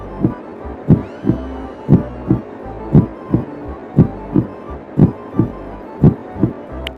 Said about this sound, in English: It's pretty tense with the soundtrack having like heartbeat noises and stuff playing the